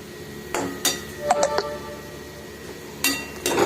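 A spoon stirs pea (pattani) gravy in a metal pot, producing a few sharp, ringing clinks against the rim and sides, spaced irregularly with quiet stretches between.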